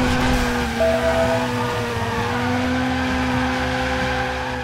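A Nissan drifts in Driver San Francisco, its engine droning steadily while a sustained, wavering tire squeal runs over it, loud and continuous throughout.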